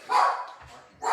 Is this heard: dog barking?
yes